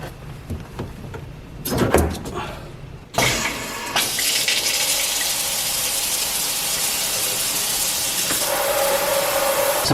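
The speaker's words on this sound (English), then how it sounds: "we can turn our water line back on and make sure we don't have any leaks" Water rushes from a newly installed Moen kitchen faucet. A few clunks and a short burst come first, then a loud, steady hissing flow that runs on to the end.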